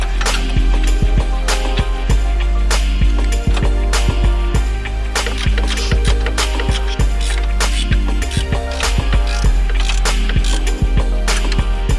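Ratchet wrench tightening a Megan Racing strut bar on a BMW E90, heard alone as a loud, steady run of sharp metallic clicks in quick repeating bursts, close to the listener.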